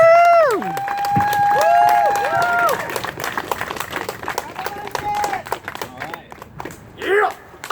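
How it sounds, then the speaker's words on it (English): An audience at an outdoor climate rally applauds with a burst of clapping, whoops and high cheering voices that gradually thin out. "Please give a round of applause."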